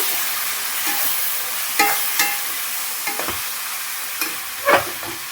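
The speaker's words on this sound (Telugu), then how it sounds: "ఇప్పుడు బాగా కలుపుకోవాలన్నమాట." A pan of chicken frying with onion stalks sizzles steadily while a utensil stirs it, scraping and clinking against the pan in irregular bursts.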